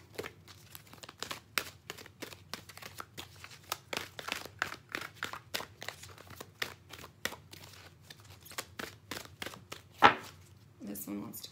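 Tarot cards are shuffled for a reading in a quiet room, giving a rapid run of soft, even riffling flicks, with one sharper snap near the end.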